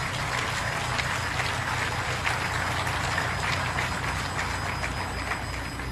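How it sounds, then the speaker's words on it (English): Applause from a stadium crowd at an under-17 football match between Cameroon and Côte d'Ivoire, a dense, steady clatter of clapping heard from a distance for several seconds with no clear voices. "je vous prierai une fois de plus d'applaudir pour le professeur Joseph Orona"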